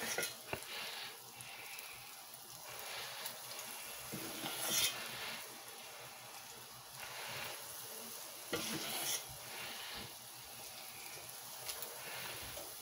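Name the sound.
vegan mochi donuts frying in oil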